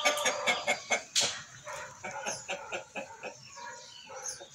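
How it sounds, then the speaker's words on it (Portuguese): A rooster calls in a run of short, repeated clucking bursts, fairly faint, with no talking. "vocês ouvem aí um galo cantando"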